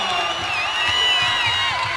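Basketball arena crowd cheering and whooping after a dunk in a Jackson Timberwolves versus Monroe Bearcats game, a steady loud roar with high shouts layered over it throughout.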